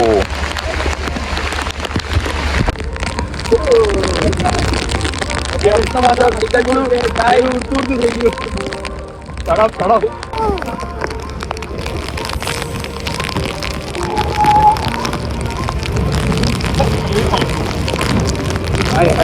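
Steady monsoon rain and wind noise roar throughout, with a voice talking over the downpour.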